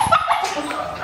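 Dogs near a kennel on a very hot day give quick close yips and whimpering barks in a brief, loud burst.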